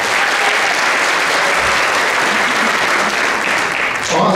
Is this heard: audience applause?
yes